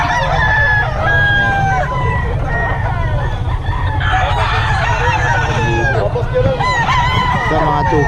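Fighting roosters at a gamefowl seller's yard crow repeatedly, with several birds overlapping, plus clucking and a low steady hum underneath, loud and close.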